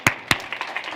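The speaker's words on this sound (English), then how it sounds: "Give a round of applause." An audience begins applauding a volunteer coming up on stage at a keynote address: two sharp, close claps followed by softer scattered clapping within a second.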